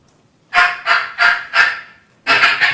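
A hand-operated turkey call imitates a wild turkey with loud, nasal, honking yelps. About six close calls come in an uneven rhythm after a moment of silence.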